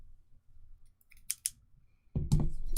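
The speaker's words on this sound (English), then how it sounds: "let me grab actually my handy dandy scissors" Handy scissors snap shut in two crisp cuts in close succession, followed by a louder burst of rustling and handling noise, presumably card packaging, in a quiet room with no talk.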